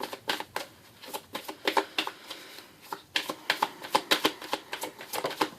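Tarot cards being shuffled by hand close up, a rapid run of crisp riffling clicks and flutters in several quick bursts, with no voices.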